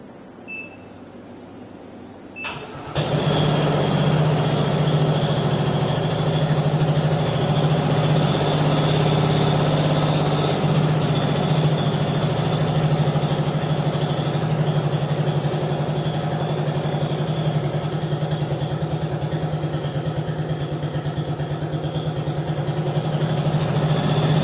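A translucent demonstration gasoline internal combustion engine starts after a short quiet moment, then runs steadily at a loud, even idle with a constant buzzing drone close by for the rest of the clip, with no talking.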